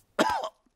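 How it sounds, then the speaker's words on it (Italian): A cartoon bear doctor gives a single short, raspy cough, close and clear, followed by silence. "Il dottor Orso Bruno ha preso la tosse da Pedro"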